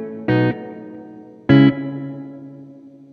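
Electric guitar through a TC Electronic spring reverb pedal turned to maximum: two separate struck chords, each followed by a long, shimmering reverb tail that fades slowly.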